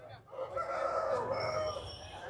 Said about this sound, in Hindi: देख सकते हैं गाइस इसको टर्की मुर्गी बोलते हैं, देख के बड़े यूनिक दिखते हैं टर्की मुर्गी